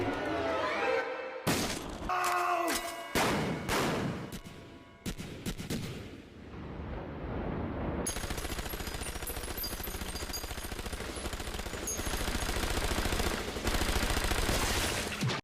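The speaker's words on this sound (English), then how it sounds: "gunfire sounded different depending on what firearm was being discharged" Bursts of anime gunfire from different firearms with varied tones, sharp cracks and rapid volleys, some sounding heavier than others, followed by a sustained rattling barrage with glassy shattering.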